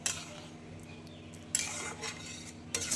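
A spoon stirs homemade chutney in a pan, giving soft scraping and clinking with a couple of brighter clatters, close and fairly quiet, with no talking.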